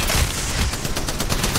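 Rapid gunfire from the Apex Legends Mobile video game: a dense, continuous burst of automatic shots with booming low thumps, loud and sustained.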